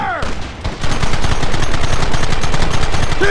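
Loud, sustained gunfire erupts in the Western video game Red Dead Redemption, with rapid shots from several guns overlapping into a dense fusillade after a brief quieter lead-in.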